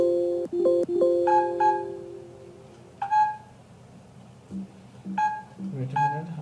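Several short electronic beeps sound at irregular intervals, some in quick pairs, with a few lower tones mixed in and faint voices under them.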